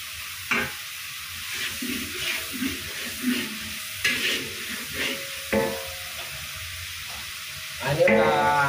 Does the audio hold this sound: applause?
no